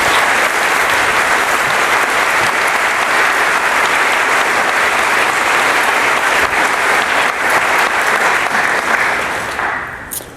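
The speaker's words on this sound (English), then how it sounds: "please give them another round of applause" A large commencement audience applauds the ceremony's planners with loud, dense, sustained clapping that stays even for about ten seconds, then tapers off at the very end.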